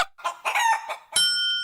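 A person's voice imitates a chicken, giving a short series of clucks followed by a higher, drawn-out crowing note, close and loud with no other talk.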